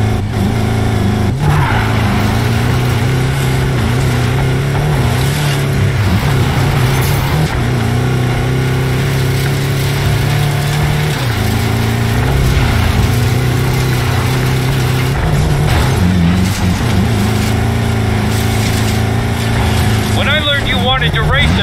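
An off-road trophy truck engine drones steadily in a Need for Speed Payback race, loud and close throughout, with revs rising and dipping.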